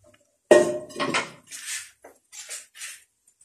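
Cooked meat is strained out of yakhni stock in a pot for Kabuli pulao, a loud metallic clank followed by several softer scraping and clinking bursts, close with quiet gaps.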